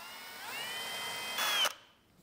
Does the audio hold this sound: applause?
no